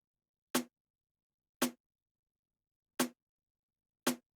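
A snare drum in a beat mix, with an effect switched on, hits four separate times at uneven gaps. Each crisp, punchy crack has a short tail and stands alone against silence.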